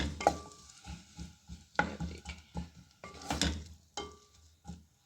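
Small onions tossed into hot ghee for achari chana dal: intermittent clattering and scraping of a spoon in the pan with soft sizzling bursts, close and fairly quiet.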